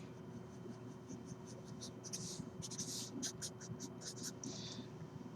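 Marker drawing a line on a classroom board, a run of quick squeaky strokes in rapid bursts over a steady low room hum, with faint speech in the background.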